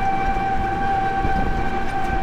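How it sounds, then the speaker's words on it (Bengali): The Sundarban Express passenger train heads toward Khulna near Chuadanga, a steady close rumble of wheels and carriages with a sustained tonal whine throughout, loud and continuous with no voices. "ট্রেন চলে যাচ্ছে খুলনার দিকে, এই সুন্দরবন এক্সপ্রেস"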